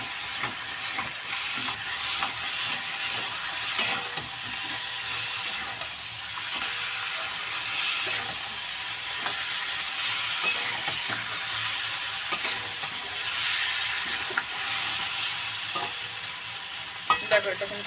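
Prawn heads with spices stir-fried in a pan, a loud, continuous hissing sizzle close up, broken by frequent scraping stirs and light clicks of the utensil.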